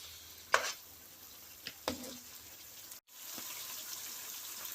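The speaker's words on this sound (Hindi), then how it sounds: "थोड़ा सा मोर पानी डाल देते हैं।" Water poured into a pan of onions and tomatoes cooking in a home kitchen: a few faint splashes and stirring clinks over a soft, steady sizzle.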